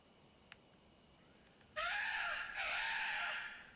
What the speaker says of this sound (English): Shut up, crow.